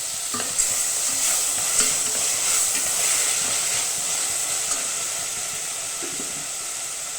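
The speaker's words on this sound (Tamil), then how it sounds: "தக்காளி வதங்கும் போதே நம்ம கொஞ்சமாக உப்பு சேர்த்துட்டோம் அப்படின்னா சீக்கிரமாக தக்காளி வதங்கிடும்" Tomatoes with salt sauté in a pan, a steady close sizzle and hiss running throughout with occasional soft stirring scrapes, fading slightly toward the end.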